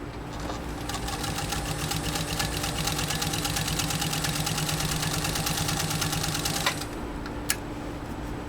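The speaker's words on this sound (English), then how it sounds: "Sue's machine just went through about 14 ounces of leather" A 1940 Singer 201-2 sewing machine stitches through three layers of leather, about 14 ounces thick, with a steady fast mechanical clatter and motor hum running for about seven seconds before stopping, followed by a single sharp click.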